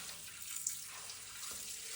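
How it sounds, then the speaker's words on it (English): Water pours steadily into a Red Sea Reefer G3 250 aquarium during filling, splashing onto rocks placed over the sand, a continuous faint hiss without pauses. "Trying to use these rocks as a breaker for where the water lands so that it doesn't mix up the sand too much."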